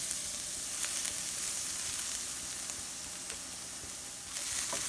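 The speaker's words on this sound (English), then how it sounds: "we can stir our garlic into the onions and peppers and let that cook for a minute or so" Garlic, onions and peppers fry in a pan for a chicken and rice dish, a steady, even sizzle heard close up for the whole stretch, with faint clicks of stirring and no voices.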